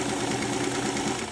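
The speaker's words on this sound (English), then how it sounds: "Now I'm going to start sewing." A domestic sewing machine stitches quilted fabric for a sling bag, a steady close, even motor whir with a rapid mechanical rattle and no breaks.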